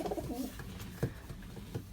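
Pigeons coo softly inside a loft that holds racing and mixed-breed birds. Low, faint murmuring coos run throughout, with a few slightly louder calls.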